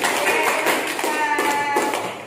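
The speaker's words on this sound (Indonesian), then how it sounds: "tepuk tangan ya." A small group claps in a classroom after a micro-teaching presentation, a short burst of scattered, uneven applause fading slightly toward the end, with faint voices underneath.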